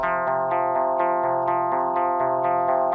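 An Arturia MicroFreak synthesizer plays a steady, even arpeggio of repeated bright tonal notes in double-note steps, loud and alone without any voice.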